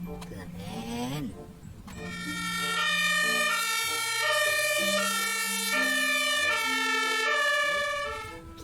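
A yellow toy ambulance plays an electronic two-tone siren melody in a looping pattern, clear and close, after a brief bit of talk at the start.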